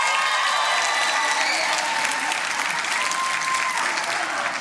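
A large crowd at a CIG Night of Play national finals event applauds loudly and continuously, a dense wash of clapping with scattered cheers throughout.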